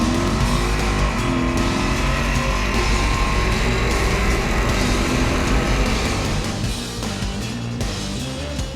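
A Ford Mustang pony car roars hard down a quarter-mile drag strip, a loud continuous engine howl building through the run before easing slightly and fading at the end.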